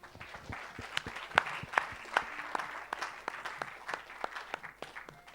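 A church congregation applauds at a deliverance prayer service, with steady crowd clapping and a few loud, sharp claps standing out. It carries on evenly throughout at moderate volume.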